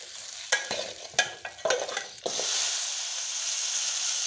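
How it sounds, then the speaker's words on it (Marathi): Spices and onion-garlic masala being sautéed in oil in a pan, with a few scraping stirs early on, then a steady bright sizzle that carries on alone to the end. "कांदा लसूण मसाल्यामुळे चांगलं तेल सुटेपर्यंत मसाले परतून घ्यायचे"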